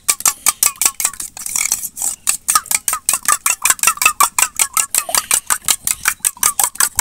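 Eggs whisked with salt and turmeric in a bowl, a fast, even run of sharp ticking strokes against the bowl, about four per second, close and loud, with a short pause near the start.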